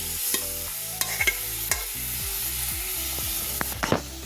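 Boiled chickpeas get stirred into masala in a pan, a spoon scraping and knocking in repeated strokes over a soft steady sizzle, with no talking.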